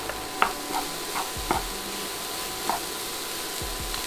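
Cauliflower rice frying in a pan gives off a continuous soft sizzle, with several short scraping strokes of a utensil stirring it through at irregular intervals, close and fairly quiet.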